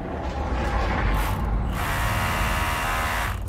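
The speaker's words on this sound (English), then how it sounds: "Give us our little jackhammer, mate. We'll see if we can bust that out." A small jackhammer hammers into hard rock inside a mine, a close, loud, continuous rattling drive that barely pauses, with no voices over it.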